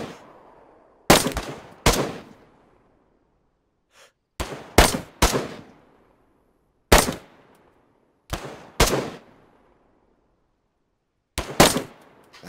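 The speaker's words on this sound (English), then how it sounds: "Shoot? Who shot?" Gunfire in DayZ Standalone: sharp, loud shots in pairs and small clusters with echoing decay, separated by silent gaps across the stretch.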